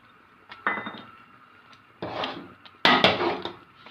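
Metal spoon scraping and clinking against a cooking pot while milk powder is stirred into kheer, in three separate bursts of scraping, fairly close and moderately loud with no talk.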